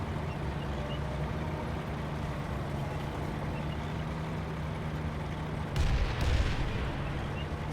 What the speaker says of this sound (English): sounds of explosion, probably the enemy trying to undo my hard work